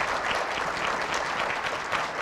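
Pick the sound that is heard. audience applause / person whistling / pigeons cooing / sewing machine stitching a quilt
audience applause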